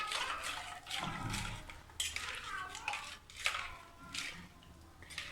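A spoon clinks and scrapes softly in a bowl as chili powder, coriander powder, salt and turmeric are stirred into water for a South Indian dhal curry, with repeated light taps and watery swishing, quiet and close.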